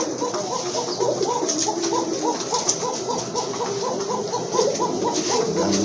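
Pigeons coo in a steady, repeating rhythm, the soft throaty calls close and continuous over a faint background hiss, with no talking.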